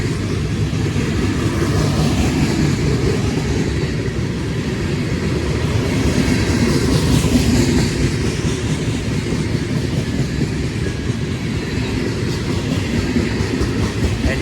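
A freight train made up entirely of empty gondola cars rolls past close by in Aguascalientes, Mexico, with a loud, steady rumble and rattling wheel clatter that continues unbroken throughout.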